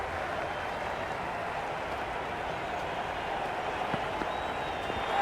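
A crowd in the cricket game Cricket 26, a steady, even roar of cheering that holds at a constant level throughout, with faint, hard-to-make-out voices mixed into the noise.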